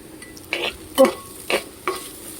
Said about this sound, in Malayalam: കപ്പയൊക്കെ കുഴയ്ക്കുന്നത് എല്ലാവരും കണ്ടിട്ടില്ലേ?